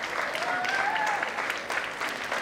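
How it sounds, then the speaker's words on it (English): At a preschool and primary school graduation ceremony, an audience gives the head boy a dense, continuous round of clapping that fills the hall evenly from start to finish. "Please clap our head boy."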